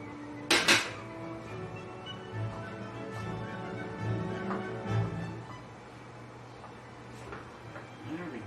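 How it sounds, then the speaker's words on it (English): Spoon stirring flour into strawberry filling in a bowl, a sharp clink against the bowl followed by soft scraping and gentle knocks, close and fairly quiet, with a low hum in the background. "I'm going to stir in a half a cup of flour."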